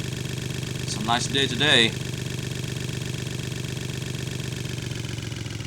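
A motorcycle engine idles in a video game, a steady low throb that runs unbroken throughout, while someone briefly speaks over it.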